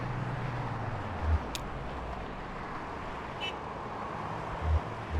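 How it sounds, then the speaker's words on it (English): Cars pass along a rural highway through a small town in Kentucky Route Zero, a soft continuous roadway hum with faint low thumps as vehicles go by at a distance. "cars driving by on a highway through a rural town"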